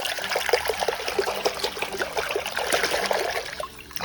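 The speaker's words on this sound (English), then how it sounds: "Wow, there's clean water, guys." Clean running water used for washing toy animals trickles and splashes continuously, close and fairly loud, with an uneven dribbling texture and no speech.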